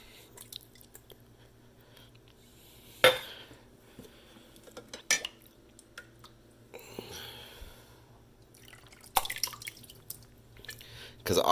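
Acid whey from homemade slow-cooker yogurt dripping through a coffee filter strainer, a few faint scattered drips and soft clinks over a quiet background.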